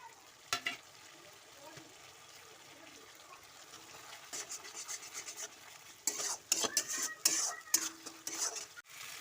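Lentil fritter curry with spices, cashews and poppy seed being stirred and sautéed in a pan, soft low sizzle at first, then louder scraping spoon strokes and clinks against the pot in the second half.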